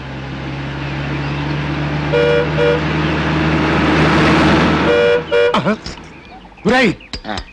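Engine rumble and road noise, then two short horn toots followed by two more, and a rising, swooping whistle-like sound near the end.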